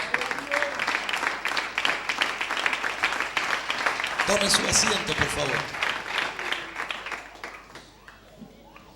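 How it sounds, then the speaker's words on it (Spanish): Church congregation applauding at a Christmas service, rhythmic clapping under a voice and music, swelling in the middle and then fading out. "Le damos un aplauso al Señor de alabanza."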